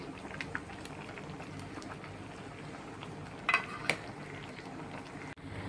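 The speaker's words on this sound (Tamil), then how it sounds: "தேங்காய் போட்டு நல்லா கொஞ்சம் கொதி வரட்டும்" Mango kulambu with coconut paste simmering in a pot, giving a steady soft bubbling with a couple of faint clinks, quiet and continuous with no talking.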